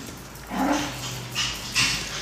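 A dog barks and whimpers nearby in an indoor home setting. A few moderately loud vocal outbursts are separated by short pauses, and no one speaks.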